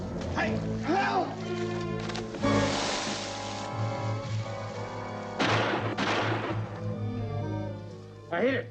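Two sharp gunshots ring out in a 1957 zombie film, spaced a few seconds apart and cutting through frequent dialogue and shouting.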